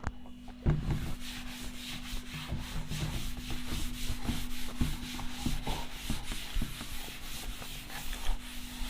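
Writing is rubbed off a board in a chemistry class with a continuous, scratchy back-and-forth scrubbing at close range. A steady electrical hum runs underneath, and no one speaks.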